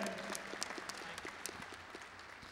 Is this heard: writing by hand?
no